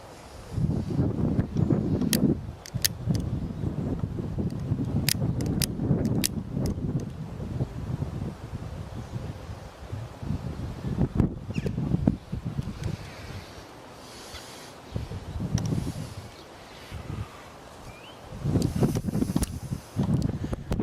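Strong outdoor wind buffeting a microphone: gusty, rumbling roars that surge and fade over about twenty seconds, with a few sharp crackles and no speech.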